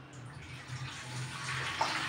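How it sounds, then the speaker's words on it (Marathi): Water pours steadily into a steel plate or pan in a home kitchen, a continuous faint splashing stream that grows slightly louder toward the end. "त्यात पाणी टाकून घेऊ आपण।"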